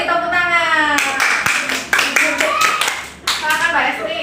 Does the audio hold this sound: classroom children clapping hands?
yes